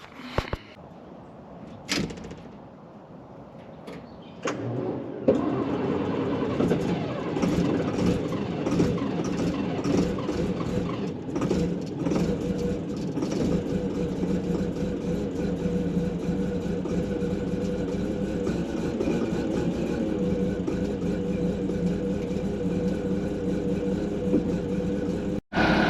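A dump truck engine idles steadily after a cold start on a roughly 38-degree morning at a pond dam worksite. A few sharp clanks come first, then a close, loud, continuous low rumble holds evenly to the end.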